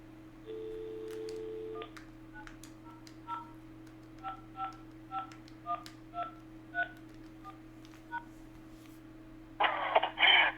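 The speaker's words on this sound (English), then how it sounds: "I'll pick up my landline and I will dial a 1900 number." A landline handset connected to a home Asterisk phone system gives a steady dial tone, then a series of about ten short keypad tones dialing a 1900 number in an even rhythm, followed by a brief burst of line noise.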